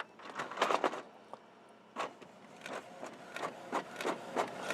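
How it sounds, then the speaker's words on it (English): A Canon Maxify printer, fitted with a refill ink system, running a copy job: repeated mechanical whirring and clacking bursts, close and fairly loud, separated by short pauses. "Scanner, now I'm going to copy it."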